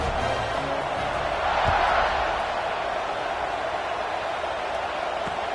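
A stadium crowd in a Tennessee college football video game keeps up a steady, dense buzz throughout, swelling a little near the middle, with no clear voices above it.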